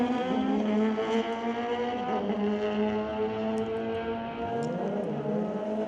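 A Kawasaki drag racing bike on a sled racing track bogs, its engine note sagging and wavering, then picks up again into a strong, steady high-revving roar, heard at moderate distance without talk.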